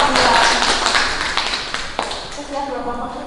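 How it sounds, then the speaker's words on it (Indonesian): Students in a classroom clap for a group after its presentation, a dense burst of hand claps that thins out as voices rise over it. "Tepuk tangan untuk kelompok"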